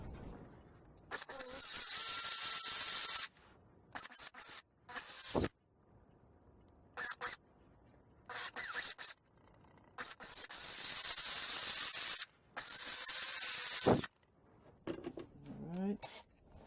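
A power drill fitted with an 11/64 bit bores holes for dowels in a wooden whirligig part. Loud whining bursts of drilling, some short and some several seconds long, are separated by quiet gaps.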